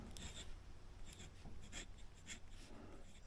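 Pen nib writing on paper with coffee brown ink, a scratchy, close scraping of repeated short strokes at a steady soft level.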